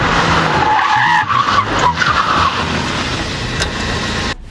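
A car's tyres lock up and skid under hard braking without ABS, a loud close squeal over engine and road rumble lasting several seconds before it cuts off abruptly.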